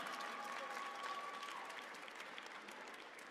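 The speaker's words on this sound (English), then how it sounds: "Another huge round of applause and congratulations to all of our players." Audience applause at a Dragon Ball Super Card Game championship, a steady crowd clapping that carries on evenly and fades slightly toward the end.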